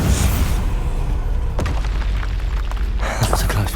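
A loud booming blast from the Bombarda explosion spell in the Hogwarts Legacy video game, a heavy rumbling burst that fills the clip, with a second sharp impact near the end.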